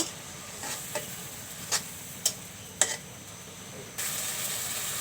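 Spices being sautéed for a beef and potato curry, a quiet low sizzle punctuated by several distinct spatula taps and clicks on the pan, growing a little louder near the end.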